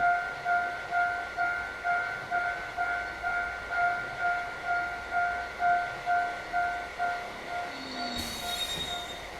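Trains running in the A-Train railway simulation game produce a steady rhythmic clatter of wheels over rail joints beneath sustained high squealing tones, with a brief horn-like tone entering near the end and no talk.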